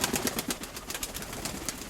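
A prized pigeon kept for breeding coos softly nearby in a few low throaty pulses, with light rustling around it and no talking.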